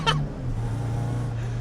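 A supercharged BMW 1600-2 engine under way while driving, holding a steady, close droning note after a brief high chirp at the very beginning.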